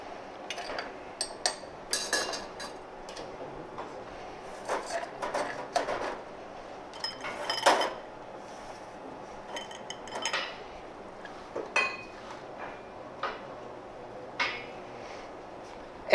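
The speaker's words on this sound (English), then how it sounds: "Stir a bit, just a little bit." A Prestiné cocktail stirred in a glass, giving a run of light clinks and taps from the spoon against the glass, quiet and close, with no talk.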